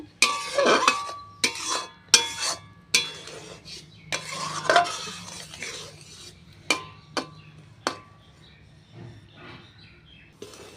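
Jaggery melts with mango in a pan, stirred with a spoon that scrapes and knocks against the metal in a series of irregular, distinct strokes over a faint sizzle, with no speech.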